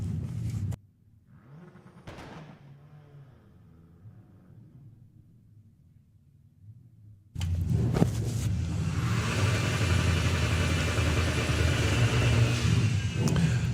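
Side-by-side VW drag race at Santa Pod between a Passat and a Golf: a faint low rumble, then a loud, sustained roar of two engines at full throttle bursting in and running to the end.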